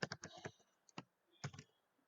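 A computer keyboard is tapped close by as a C program is typed, with bursts of quick clicking keystrokes separated by short pauses.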